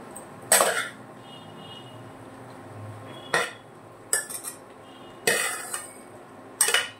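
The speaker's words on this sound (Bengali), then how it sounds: "কাঁঠালগুলো সব মশলার মধ্যে দিয়ে দিচ্ছি, সেদ্ধ করে রাখা কাঁঠালগুলো এখন সুন্দর মতো মিশিয়ে নেব।" Boiled green jackfruit pieces are tipped and stirred into fried spices in a cooking pot, giving several sharp clattering scrapes of a utensil against metal spaced across a quiet kitchen background, with no talking.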